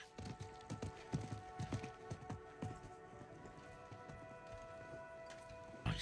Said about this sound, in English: I think that was the merchant's horse.